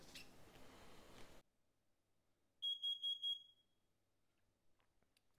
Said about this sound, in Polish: się odezwał czujnik CO2